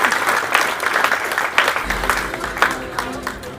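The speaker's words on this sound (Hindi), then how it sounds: "देखो ताली बजा रही भाई इतना छोटा बच्चा भी अगर ताली बजा रहा है" A small girl claps her hands amid a crowd at an outdoor election campaign rally in Model Town, Ratia. The claps come as a steady run of sharp hits over a constant background of crowd noise.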